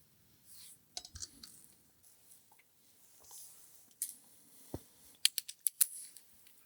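A torque wrench clicks in short, sharp bursts while tightening the front brake disc bolts to 25 Nm on a Zontes 250 TE / 350E motorcycle, with scattered ratchet clicks and a quick run of loud clicks near the end.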